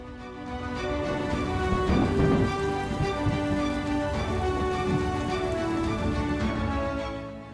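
Steady rain pours down without a break, a dense, even hiss of drops on surfaces.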